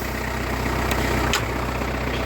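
A Kubota B3000 compact tractor engine idles close by, a steady low diesel rumble with an even, continuous drone and no talk over it.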